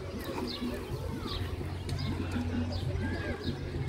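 Pigeons coo softly in low, repeated calls at a zoo in Taif, Saudi Arabia, beneath a busy outdoor background with a voice talking and other birds chirping.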